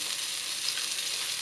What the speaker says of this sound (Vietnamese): Sau đó mình sẽ chiên cái da, áp cái da như vậy nè